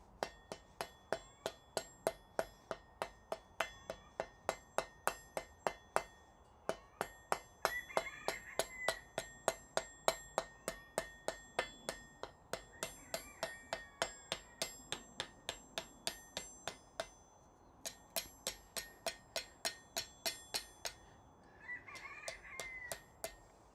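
A hammer striking a lump of hot metal at a forge, steady ringing metallic blows in a fast regular rhythm, some doubled, clear and fairly close with no talk.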